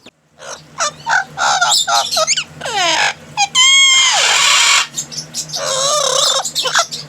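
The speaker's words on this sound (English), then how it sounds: "He is a blue and gold macaw." Blue and gold macaw giving a run of loud, harsh calls and squawks, close by, with a long raspy screech midway and shorter chattering calls before and after.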